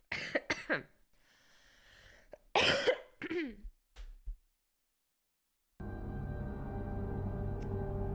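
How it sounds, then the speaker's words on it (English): Several sharp coughs and throat sounds from one person close to the mic, in bursts over the first four seconds, then silence before a steady game soundtrack hum comes in. "I muted the desktop audio so you guys could hear me cough"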